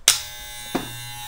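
An Andis Master hair clipper switches on with a sharp burst, then runs with a steady, smooth electric hum and a brief surge partway through. It is close and fairly loud, with no talking.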